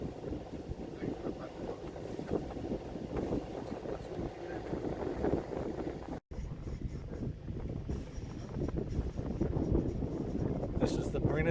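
Sailboat motoring slowly around the marina at Brindisi harbor, Italy, a steady low engine rumble with wind buffeting the microphone throughout, a brief dropout near the middle, and a voice talking over it.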